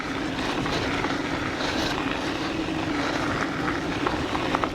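An Isinwheel GT1 electric scooter ridden at full power on a bumpy, gravelly track, heard as a steady, loud roar of wind and rolling rumble with no breaks.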